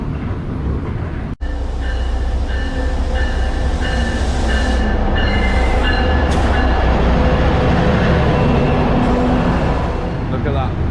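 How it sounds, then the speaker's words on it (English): A commuter rail train on the Haverhill Line rumbles loudly through Oak Grove Station, with a steady low roar, a sharp thump, and some tonal whining, while someone talks under the noise. "Commuter rail train at Oak Grove Station."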